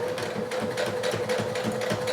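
A sewing machine runs its automatic buttonhole cycle on a shirt, a steady fast whirring stitch rhythm with a constant motor tone, close and uninterrupted, no one speaking.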